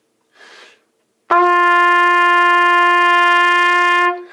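A single loud, close trumpet tone on open G is held steadily for nearly three seconds, preceded by a short soft breathy sound.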